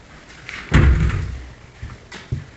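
A heavy-duty glass shower door in a brand-new custom house swings shut with one solid thud, followed by a fading rattle and a smaller knock a moment later.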